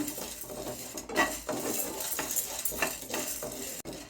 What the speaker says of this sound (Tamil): இது கொஞ்சம் லேசாக வறுத்துக்குருவோம்